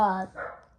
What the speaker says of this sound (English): that's our dog barking there